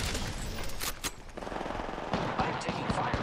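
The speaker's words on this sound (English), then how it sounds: "I'm taking fire, friend." Sustained automatic gunfire in the video game Apex Legends, a loud, dense rattle of rapid shots running almost without pause, with individual cracks standing out toward the end.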